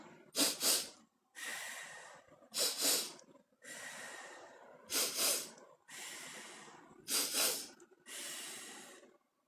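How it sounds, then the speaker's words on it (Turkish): A person draws two short, sharp sniffs in through the nose, then lets the air out in one blown exhale, the pattern repeating several times close up and alone, with no talk. "burundan kısa ani nefes çektim ve bir sefer de üfleyerek bıraktım"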